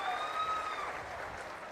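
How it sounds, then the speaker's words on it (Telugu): Applause rises from an audience at an official government review meeting, a dense, steady patter of clapping heard close, with a faint tone briefly audible over it. "గట్టిగా చప్పట్లు కొట్టి అభినందించండి"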